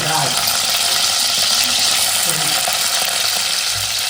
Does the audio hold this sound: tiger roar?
no